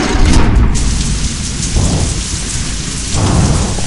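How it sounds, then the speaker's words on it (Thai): Steady heavy rain with rumbling thunder in a video game, a loud continuous downpour with deep low rolls that swell and ease across the whole stretch. "ฝนก็ตกอะไรเนี่ย"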